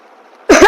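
A single sharp adult cough, close and loud, coming as a short double burst after a moment of faint, quiet background murmur.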